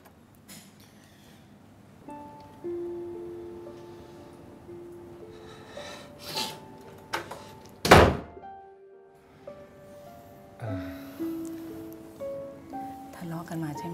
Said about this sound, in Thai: เปิดประตูให้แม่หน่อยลูก